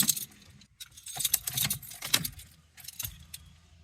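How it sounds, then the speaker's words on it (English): Keys jangle in the ignition of a BMW E46 as it is cycled on, several bright metallic rattling bursts with short pauses between them, close and clear in a quiet car interior. "So let's cycle the ignition."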